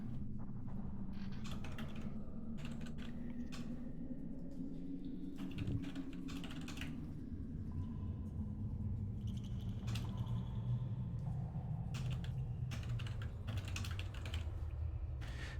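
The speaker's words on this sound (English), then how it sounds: "currently typing." Steady clicking keystrokes on a computer keyboard rattle along continuously for several seconds, fairly faint, over a low constant hum in a tabletop role-playing session.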